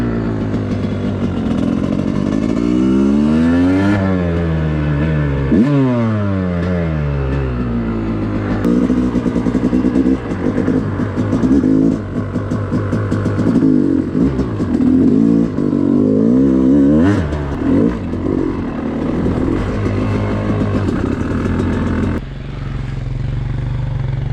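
A Yamaha YZ250X two-stroke dirt bike engine is ridden through snow, revving loud and close in repeated rising and falling sweeps with clattering bursts, then settling to a lower idle near the end.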